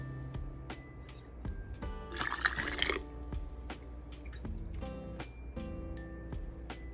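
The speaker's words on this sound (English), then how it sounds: "So you fill your jars, make sure that your broth is hot" Hot chicken bone broth being poured into canning jars, with close trickling and dripping liquid and one louder pouring burst midway, over a faint background hum.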